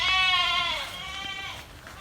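A goat on a farm gives a long, loud, wavering bleat close by, followed by a shorter second bleat that trails off.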